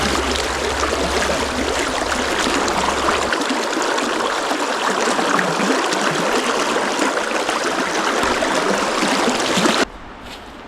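A river rushes and burbles steadily nearby with dense, even wash, low rumble underneath at the start, then falls abruptly quieter at the very end.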